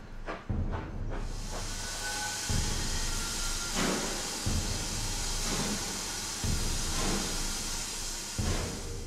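A GWR Small Prairie steam locomotive on the move, with loud, regular exhaust chuffs about every second over a constant background hiss of steam.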